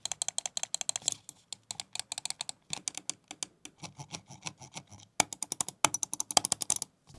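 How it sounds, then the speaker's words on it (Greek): Button clicks on an Akko gaming mouse, a light 49 g model, in a sound test: crisp, close clicks come in fast irregular bursts with short pauses between them, and no voice is heard. "Πάμε να κάνουμε και ένα sound test να δούμε τα clicks"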